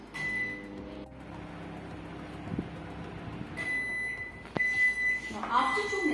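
Panasonic 27-liter microwave oven being set and started for two minutes: a couple of sharp beeps, a clunk, then the low running hum, with a person talking throughout.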